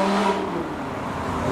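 An Audi R8 coming around a street corner, a loud engine note dropping in pitch through a downshift then building again as it passes nearby.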